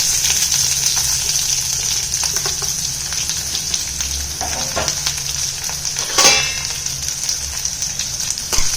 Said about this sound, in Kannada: ಇದಕ್ಕೆ ಸ್ವಲ್ಪ ಜೀರಿಗೆ, 2 ಒಣಮೆಣಸಿನ್ಕಾಯಿ, ಸ್ವಲ್ಪ ಕರಿಬೇವು, ಈರುಳ್ಳಿ, ಒಂದು ಸಣ್ಣ ಸೈಜ್ ಈರುಳ್ಳಿನ ಹೆಚ್ಚಿಟ್ಕೊಂಡು ಹಾಕ್ತಾ ಇದ್ದೀನಿ